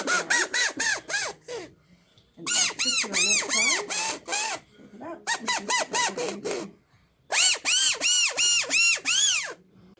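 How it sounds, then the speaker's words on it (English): A homemade harmonica of sticks, matchsticks and a rubber band blown in four bursts of buzzy, reedy honks with wavering pitch, close and loud, separated by short silences. "our harmonica ready to try"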